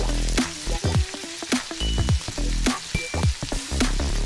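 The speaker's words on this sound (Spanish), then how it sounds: "Lo vamos a sellar mientras cae en el aceite," Food sears in very hot oil on a disco, a loud close sizzle with crackling bursts and stirring sounds over several seconds, with no talking.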